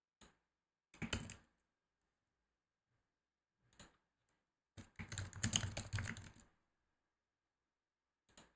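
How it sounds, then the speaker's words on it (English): Keystrokes on a computer keyboard with the mic placed close, heard as isolated clacks, two short bursts and a longer rapid flurry of typing separated by silence. "I've moved my mic like closer to my keyboard so you guys can hear that."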